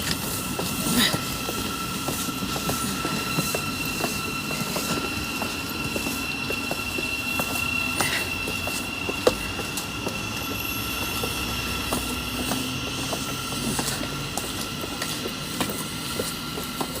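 A train running along a railway track, heard nearby as a steady rumbling roll with repeated rhythmic wheel clacks and faint metallic squeal over about seventeen seconds, with a voice talking faintly underneath.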